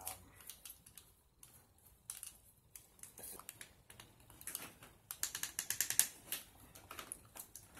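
A wrench turns a tight, stuck truss rod on a guitar, giving quiet rapid ratcheting clicks and mechanical creaks in irregular bursts that grow busier toward the end.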